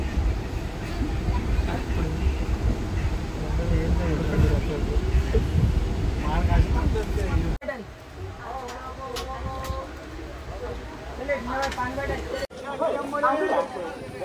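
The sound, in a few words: train travelling to Ratnagiri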